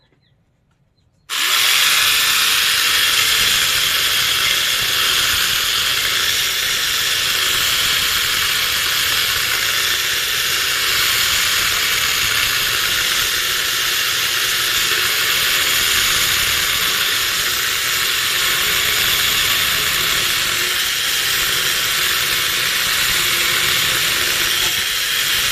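A small electric mini chainsaw cuts through wood with a loud, steady high-pitched whine and hiss that starts abruptly and holds unbroken for about twenty-five seconds, with no voices.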